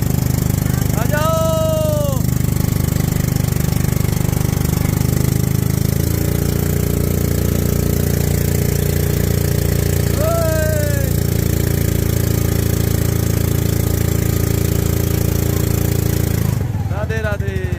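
A personal boat's engine runs steadily near a river bank in Mathura, a continuous loud mid-pitched drone, with voices talking over it.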